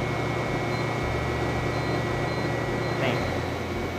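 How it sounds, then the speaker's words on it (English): A centrifugal pump runs steadily after its speed is dropped to 1500 RPM, a continuous close mechanical hum and hiss with a low droning tone that shifts slightly partway through, and no talking. "We're now going to change the pump speed and going to drop it to 1500 RPM"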